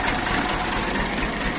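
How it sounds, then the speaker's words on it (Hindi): A tractor engine runs steadily at idle with a continuous low rumble and knocking throb, close and fairly loud, with no talk over it. "अबू जी ने ना ट्रैक्टर को चालू कर दिया है"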